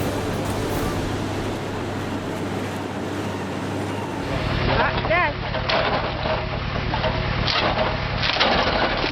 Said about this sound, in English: The wood chipping machine for the gasification furnace is starting up, a truly powerful machine.